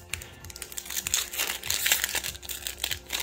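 A foil trading card booster pack wrapper being torn open, giving a close, loud run of crinkling and crackling with sharp bursts that swell midway and taper off.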